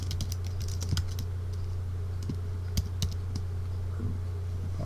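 Someone types a folder name on a computer keyboard, a quick run of close, uneven key clicks over a steady low hum, with no talking.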